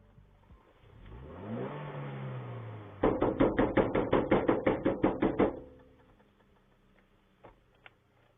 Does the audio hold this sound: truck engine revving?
yes